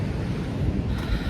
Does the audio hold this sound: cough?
no